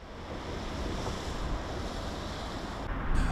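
Steady flowing water of the Xúquer river rushes in a continuous broadband wash, fairly close and even throughout, with no voices.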